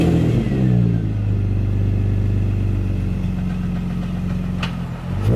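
A Nissan 350Z with no tune fires up and settles into a loud, close, burbly idle, with a low, throaty rumble that holds steady throughout.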